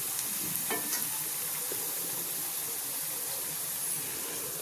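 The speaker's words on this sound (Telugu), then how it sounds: "ఇదిగోండి ఇవి చక్కగా వేగాయండి" Veg manchuria balls fry in hot oil with a steady, dense sizzle that holds at an even level throughout, close up and with no voices.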